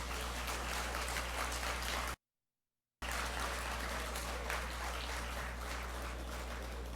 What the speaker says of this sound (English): So if you'd all give him a very big round of applause.